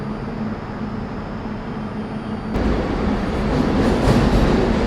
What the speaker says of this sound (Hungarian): Lengyel hév, majdnem 100 éves. Mindjárt indul szerintem